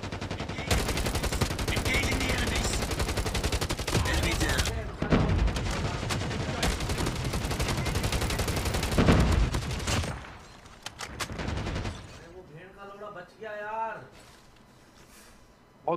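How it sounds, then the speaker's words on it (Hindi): Dense automatic gunfire from the Call of Duty Mobile game rattles loudly for about ten seconds with bursts and booms, then thins to scattered shots under game sounds and a voice toward the end. "बहुत गोलियां पड़ी उसको, बहुत ज्यादा गोलियां पड़ी है, फिर भी बच गया।"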